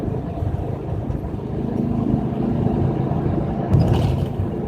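Old VW Combi van cruising along a road, a steady low engine drone and road rumble running continuously from near, with a slight swell toward the end and no talking.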